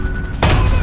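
A tank cannon fires in War Thunder, a sudden loud boom breaking in over a low engine hum and then rolling on as a broad, sustained blast.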